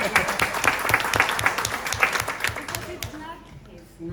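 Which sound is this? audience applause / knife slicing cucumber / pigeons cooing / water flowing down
audience applause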